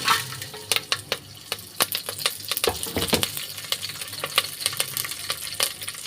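Oil sizzles in a pan while a utensil clinks and scrapes in quick, irregular strokes, close by with no talking.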